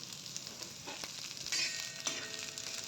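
Tomato and onion frying in oil for a green chilli chicken dish, a steady close sizzle with a few brief stirring clatters and a louder burst of crackle midway, no voices.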